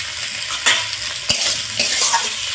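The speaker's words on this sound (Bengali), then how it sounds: "উচ্ছেটা হালকা ভাজা ভাজা হয়ে গেছে" Steady sizzle of bitter gourd frying with turmeric and salt in a pan, with a couple of clicks from a spatula stirring, close and fairly loud.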